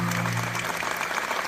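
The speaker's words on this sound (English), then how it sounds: "They're applauding everything." Studio audience at a live podcast taping breaks into steady, dense applause, a continuous wash of clapping that holds evenly throughout with a faint tonal hum underneath.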